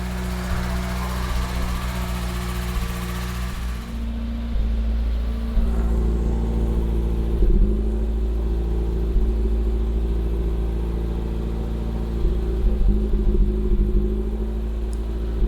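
An Austin Ambassador car engine idling after being revived from abandonment, a steady low rumble with a slight rise in pitch around four seconds, running alone without talk.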